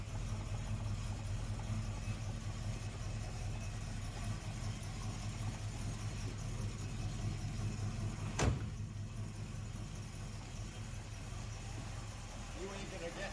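An original, untouched 1968 Oldsmobile Cutlass S convertible with 47,000 miles idles with a low, even engine rumble, steady and fairly quiet throughout, broken once by a brief sharp click midway.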